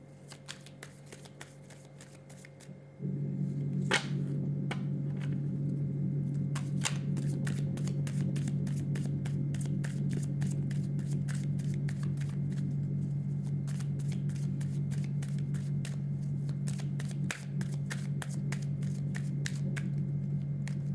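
Tarot cards being shuffled by hand during a reading, a steady run of crisp riffling and flicking that grows louder after a few seconds and continues alone without talk.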